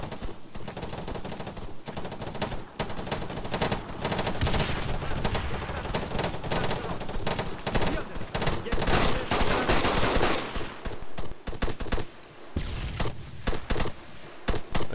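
Gunfire from a firing line clearing a bog: dense bursts of rapid shots and sustained automatic fire crackle loud and close for a long stretch, with brief lulls and occasional voices underneath.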